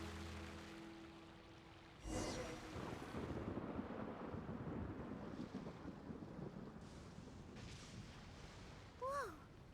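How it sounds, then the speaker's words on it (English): Thunder crashes during a thunderstorm in the video game Genshin Impact: a sudden loud clap, then a long rolling rumble under steady wind and rain noise, with a brief voice exclamation near the end. "Where'd that thunder come from?"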